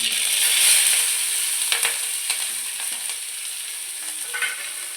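Ginger, green chilli and garlic sauté for chicken curry, a bright steady sizzle close up with occasional clicks of stirring.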